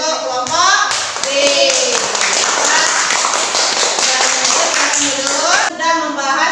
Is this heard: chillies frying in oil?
no